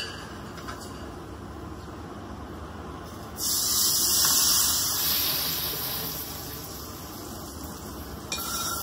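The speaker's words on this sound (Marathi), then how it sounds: "ती अशी फोडणी त्याच्यावर घालते मी" A sudden loud hiss of hot ghee tempering with Kashmiri chilli powder poured over a dish starts partway through, swells, then slowly fades, with a brief second sizzle near the end.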